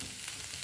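Spices and banana stem frying in a pan on low heat, a steady close hiss and sizzle with faint stirring movement, no voices.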